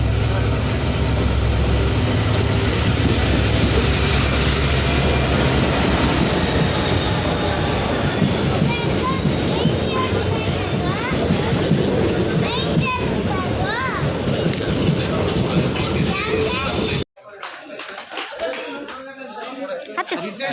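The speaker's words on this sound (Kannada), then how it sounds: "ಬಂತು ಟ್ರೈನ್ ಬಂತು." A train pulls into a railway station platform with a loud, continuous rumble of wheels and carriages and faint squealing, close by, while people talk, until the sound cuts off abruptly.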